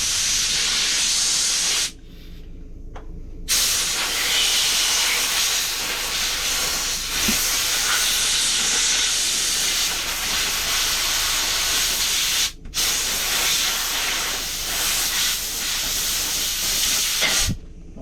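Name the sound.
air compressor airline blowing air to remove bike grips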